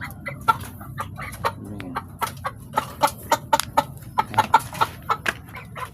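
Pet backyard chickens cluck repeatedly while being fed in the afternoon, a steady run of short, close, fairly loud clucks and calls over light background rustling.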